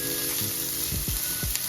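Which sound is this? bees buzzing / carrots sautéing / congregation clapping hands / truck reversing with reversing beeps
carrots sautéing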